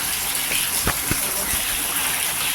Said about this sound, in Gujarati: ડોલું ને એવું બધું ભરાવું મૂકી છે